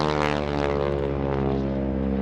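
A propeller aerobatic airplane flown by Bill Leff at a 2016 NAS Oceana airshow drones loudly and steadily with a strong harmonic engine tone, close and constant throughout.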